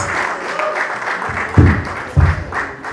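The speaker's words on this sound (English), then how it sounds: "Ladies and gentlemen, please a round of applause for him" An audience at an evening product launch in Lagos clapping steadily, with a few louder thumps and crowd murmur mixed in, moderately close.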